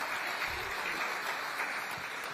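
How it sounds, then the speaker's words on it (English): Faint, steady applause from a crowd, a dense wash of clapping heard from a distance. "Give a round of applause."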